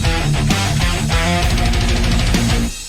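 Loud, dense metalcore music with distorted guitars and pounding drums, steady and full throughout before cutting off abruptly at the end.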